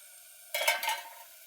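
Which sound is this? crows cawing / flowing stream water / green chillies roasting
green chillies roasting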